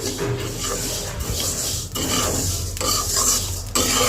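Mung dal frying and being stirred in a pan, a steady close scraping and rasping of lentils against the metal that runs throughout with brief pauses.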